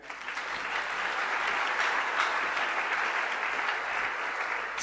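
A church congregation bursts into sustained applause during a sermon on choosing a spouse, a dense, steady wash of clapping lasting the whole stretch with no voices over it.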